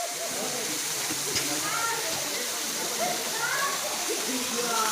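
Gandahati waterfall rushes with a steady broadband roar of falling water, while people talk over it nearby.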